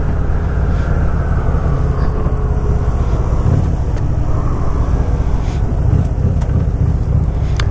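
A Honda Shadow 750 motorcycle rides at speed, its steady engine drone and road noise heavily buffeted by wind rushing over the microphone, continuous with no talking.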